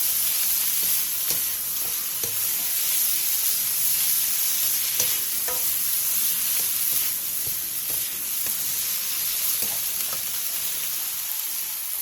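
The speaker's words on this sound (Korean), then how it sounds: "부추의 숨이 반 정도 죽으면 크래미를 넣고 1분 정도 더 볶아주세요." Garlic chives and crab sticks are stir-fried in a pan, giving a constant close sizzle broken by the scrape and toss of a spatula, busy and even throughout with no voices.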